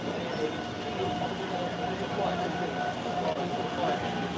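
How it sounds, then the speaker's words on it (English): A Taipei MRT metro train sounds as a steady, loud rumble with rail noise in an underground station, and a person talks over it. "this is the Taiwan MRT in general"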